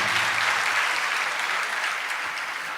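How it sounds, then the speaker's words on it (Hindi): Steady, dense applause from an audience, sustained throughout and slowly tapering slightly toward the end. "अब तालियां बजाते हमारे लिए बजाते हैं,"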